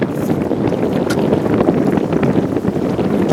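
An old outboard motor on a boat in Alaska drones steadily and loudly, with water splashing and wind buffeting the microphone.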